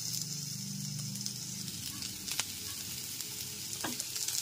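Chopped tomato sizzles as it sautés in hot oil with onion and ginger paste for a moong dal with fish head, a steady close frying hiss broken by a few scraping stirs.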